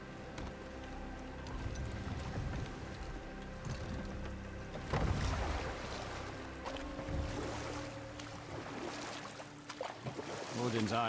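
Rowboat crossing water in the God of War video game, with sloshing waves and soft wooden creaks beneath a low game soundtrack and occasional voices.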